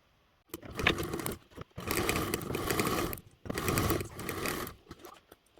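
A sewing machine stitches a lining with a quarter-inch seam in three close, loud bursts of fast whirring, each lasting about a second or more and separated by brief pauses.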